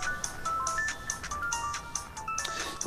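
A phone ringtone plays a repeating melodic tone pattern with evenly spaced bright pulses, moderately soft against quiet room background.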